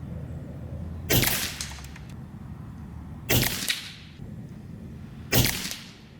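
Three sharp, loud shots from a Skout EVO .22 caliber air rifle, each a crisp crack with a short ringing tail, spaced about two seconds apart over a low background hum, with no talking.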